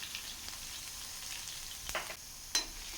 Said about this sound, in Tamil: இப்போ இது நல்லா ஃப்ரை பண்ணி விட்டுக்கலாம்